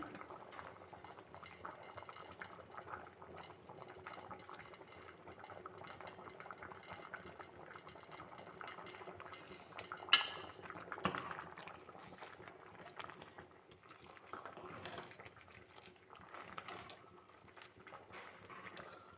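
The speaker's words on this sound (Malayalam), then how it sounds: "അപ്പോൾ നമ്മുടെ അവിയൽ തിളച്ച് വരികയാണ്." Aviyal with raw mango simmering in a pot, finished with a drizzle of coconut oil, gives soft, continuous bubbling and crackle, faint and close, with a couple of sharper clinks around the middle.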